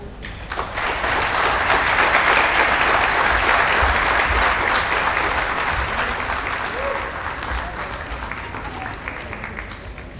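Sustained loud applause from a theatre audience fills the room right after a dramatic stage play performance, steady and dense throughout with a slight fade toward the end.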